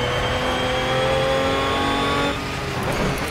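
An Aston Martin V12 Vantage GT3 race car in Project Cars roars at high revs with a steady engine tone, then drops pitch as the driver lifts off near the end, close and loud with no talk.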